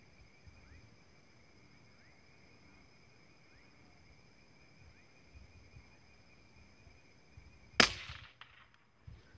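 A single sharp rifle shot fired with CBC 8122 ammunition at bars of soap 100 meters away cracks out near the end, after a quiet outdoor stretch of steady insect buzz.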